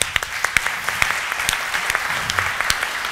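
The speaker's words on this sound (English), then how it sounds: "Another big round of applause for Vaidas." Steady, dense applause from a conference audience closing a keynote talk, a continuous clatter of many hands with a few sharper claps standing out.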